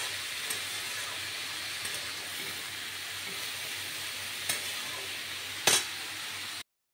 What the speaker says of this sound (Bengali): এখানে মৌরি, তেজপাতা, শুকনো লঙ্কা ফোড়নে দিয়ে দিয়েছি।